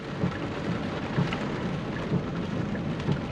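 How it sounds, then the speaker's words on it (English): Rain drums steadily on a 2024 Hyundai Kona EV, heard from inside the cabin as a continuous dense hiss with soft low rumbles, no talking. "Our heated seats are on to the max because it's raining"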